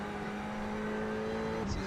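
Ferrari GTE race car in the iRacing simulator, running at Le Mans: a loud, steady engine drone holding a high pitch for a couple of seconds, with a brief tire chirp near the end and no talk.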